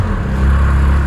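Stock Porsche GT3 RS with its original exhaust and Michelin Pilot Sport Cup 2 tyres, engine droning steadily at close range, a brief loud burst with no talk.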